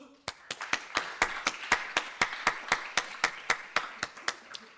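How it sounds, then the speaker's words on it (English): Applause at a formal conference gathering as an audience thanks the organizing staff: a steady run of sharp, close hand claps, about four per second and fairly even in loudness, over a faint room murmur. "deserve a round of applause"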